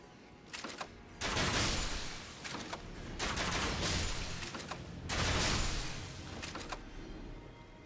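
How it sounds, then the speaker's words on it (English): Crossbow shots and impacts in Elden Ring ring out in a rapid series of sharp, loud bursts over continuous game background noise. "Good thing they don't hear my very loud crossbow."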